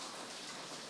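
Light rain falls steadily during a typhoon, a soft continuous hiss of drops heard faintly and alone for a brief moment.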